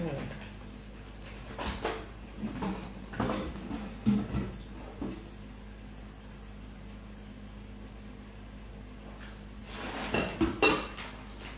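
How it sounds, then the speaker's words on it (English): Pots, pans and cutlery clank and scrape in a kitchen while oxtail with butter beans and bay leaves is moved into a pan for the oven, irregular close clinks and knocks in scattered bursts, with quiet speech around them. "I'm just going to transfer it to the pan that I'm going to cover and put in the oven"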